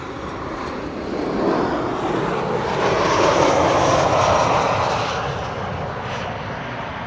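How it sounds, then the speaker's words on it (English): A Transavia airliner arriving at Amsterdam Schiphol passes with a loud, broad engine roar that swells toward the middle and then eases, heard alone without talk. "this is Transavia flight 5312 arriving from Corfu"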